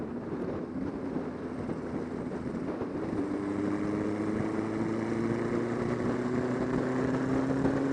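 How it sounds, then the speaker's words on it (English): A four-cylinder 404 sport motorcycle engine idles with a steady, low droning hum that rises slightly in pitch, heard continuously at moderate distance with some wind noise. "It's a 404. It's a 4-cylinder, relatively sporty type of thing."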